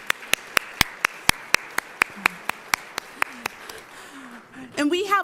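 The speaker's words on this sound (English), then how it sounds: "let's give all of our forum sponsors and partners a round of applause" A single person claps for the forum sponsors and partners at an Ohio urban growth forum, sharp evenly spaced claps that slow and thin out before voices and chatter take over near the end.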